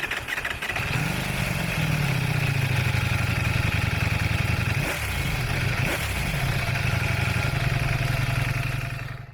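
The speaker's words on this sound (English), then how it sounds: "The stock exhaust sounds decent." A 2026 Ducati Panigale V4 S on its stock exhaust idles close by with a deep, steady burble, then gives two quick throttle blips around the middle before settling back to a steady rumble.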